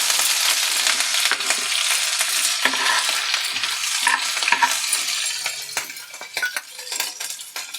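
Steady sizzling and crackling of cumin and garlic paste frying in hot ghee, with a spoon scraping and stirring the pan throughout.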